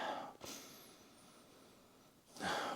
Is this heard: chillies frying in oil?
no